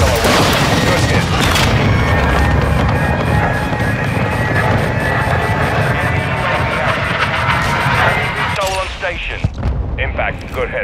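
Heavy booming artillery explosions from a called-in fire mission in Call of Duty: Modern Warfare II's Ground War mode roll continuously at high loudness, layered with gunfire and battle noise, while radio-style voices speak over the barrage.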